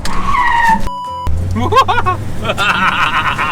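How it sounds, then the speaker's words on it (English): Tires squeal and skid in a short burst as an old car's brakes lock up hard at a road race, followed by chattering voices and laughter close by. "give you a demo of these old school brakes"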